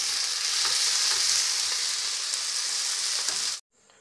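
Whole spices fry on a low flame with a dense, even sizzle that holds steady for several seconds and then cuts off abruptly, leaving near silence.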